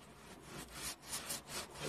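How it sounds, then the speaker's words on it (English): Leather seat of a Porsche Boxster being rubbed with a small amount of dye: a steady, close, papery scrubbing with rhythmic strokes that swell and dip roughly every half second, with no voices. "Very, very little amount of dye, but really sort of rubbing it in well,"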